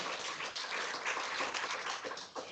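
Steady applause from a crowd at a nutrition and dietetics event, broad and even throughout, with no voices standing out.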